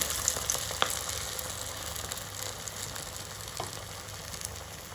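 Falafel balls frying in hot oil: a dense, continuous sizzle with small crackling pops scattered throughout, steady and close, with no talking.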